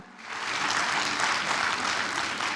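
A church congregation at a Christmas service applauds after a recited poem, a dense steady wash of clapping that swells quickly and holds at full strength throughout, with no voices over it.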